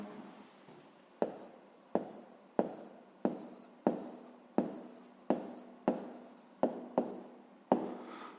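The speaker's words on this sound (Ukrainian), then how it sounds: "записуємо відповідь" A pen writes out the answer to a fifth-grade maths exercise, a regular series of about a dozen sharp scratching strokes, close and distinct, each fading quickly, with quiet speech around them.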